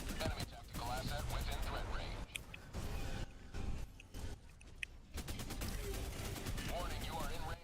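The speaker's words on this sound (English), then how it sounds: "Ooh, enemy artillery." Enemy artillery in a chaotic co-op shooter video game: rapid volleys of gunfire and blasts pound almost continuously, with brief lulls, mixed with players talking over the barrage.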